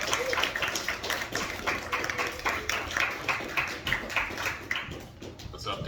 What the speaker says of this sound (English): Everyone give Peter a big round of applause.